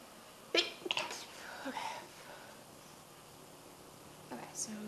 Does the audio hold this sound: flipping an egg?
no